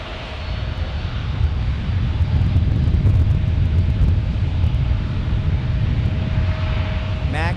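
An Alaska Airlines Boeing 737 Max 9 lands at San Diego, its jet engines producing a loud continuous rumble and roar that builds and then holds steady.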